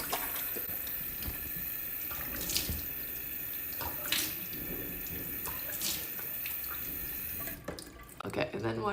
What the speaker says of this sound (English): I'm gonna go in front of my sink if you don't mind, because I'm putting water everywhere.